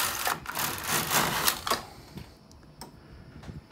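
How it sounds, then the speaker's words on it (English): A domestic knitting machine carriage is pushed across the needle bed, giving a close, rattling mechanical whir for about two seconds, followed by a few faint clicks and a quieter pause. "And it's my wife's knitting machine."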